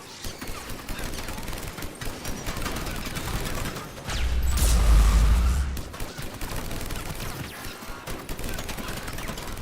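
Sci-fi weapon fire in a Mass Effect 3 combat scene, rapid overlapping bursts of shots with a louder, denser barrage midway, mixed with game effects and some voice.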